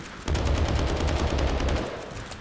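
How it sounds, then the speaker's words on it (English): An AK-47 in the video game Landfall fires a loud, continuous automatic burst of rapid shots lasting about two seconds, then trails off. "Yep, that's a gun."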